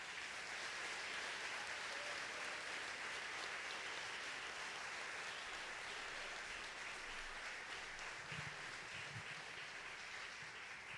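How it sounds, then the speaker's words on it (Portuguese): A church congregation applauds steadily, a dense sustained wash of clapping that holds at an even level throughout with no pauses. "Irmãos, vamos aplaudir no Senhor essa equipe"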